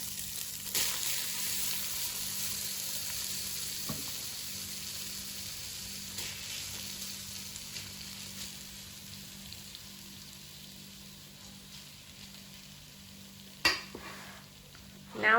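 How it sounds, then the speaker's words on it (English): Rice goes into very hot melted butter in a pan for Lubia Polo and is stirred. A soft sizzling hiss slowly fades, broken by a few scraping stirs, with a louder spoon scrape near the end. "So the butter has melted and we've taken it off the stove because we're going to add the rice now."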